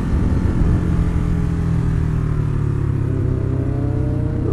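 A 2013 Ducati Hyperstrada motorcycle engine pulls under load while riding downhill in second gear, a steady close rumble with rising and falling tones and wind noise, no talk.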